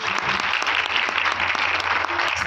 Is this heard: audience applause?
yes